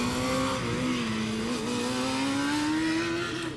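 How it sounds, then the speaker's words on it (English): Formula Student race car engine holding a steady, slowly rising pitch as it drifts through a corner at an endurance event, loud and continuous without speech. "Oh, that was a nice drift, but I think the tires are cooked now."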